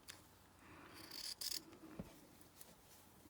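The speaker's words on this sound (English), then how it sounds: "I'm just going to go round with my scissors and cut the elastic off as close to there as I can" Scissors snip elastic off a doll's outfit in a quiet room, a few soft, brief cuts and light rubbing sounds spread across a few seconds, faint and close.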